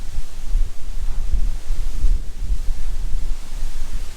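Hurricane Ian in the Florida Keys drives storm surge water up toward a house, heard as a loud, steady roar of wind buffeting the microphone over rushing, surging water.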